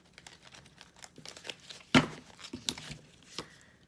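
Tarot cards being shuffled at close range, a run of soft papery riffles and taps with one sharper burst of card snapping midway, quiet and intermittent with no talk.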